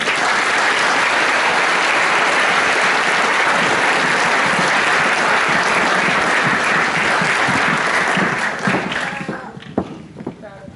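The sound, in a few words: graduation audience applause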